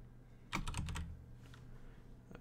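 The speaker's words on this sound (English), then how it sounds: "Let me just type in furnace, see what I can get." Quick run of computer keyboard keystrokes, a dense burst of clicks followed by a few scattered taps, close and fairly quiet against a low background hum.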